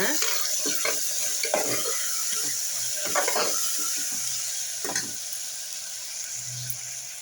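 Onion, garlic and green chili fry in a pan with a steady soft sizzle, while a few scraping stirring strokes come through up close.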